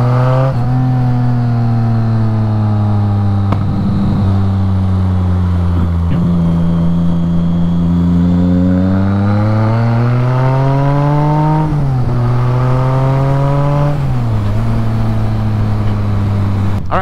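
A BMW K75 motorcycle engine revs steadily and loudly up close, its pitch climbing and dipping through several swells over about seventeen seconds with no talking.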